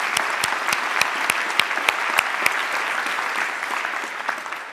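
A large audience at an education summit applauds, a steady wash of many hands clapping with a few sharper individual claps standing out.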